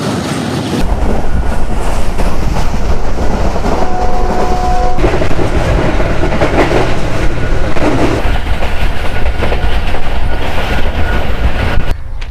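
Hazara Express passenger train running with a Q40 locomotive attached, heard from close by as a loud, continuous rumble with rhythmic clickety-clack of wheels over rail joints throughout.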